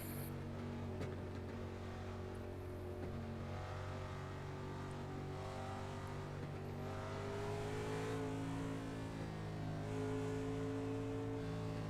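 Pack of 1987 NASCAR Legends cars at Talladega Superspeedway in an iRacing sim, engines droning and rising together at the green flag start, a steady loud layered roar with no talk.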